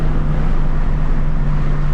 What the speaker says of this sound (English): It's mostly the wind noise.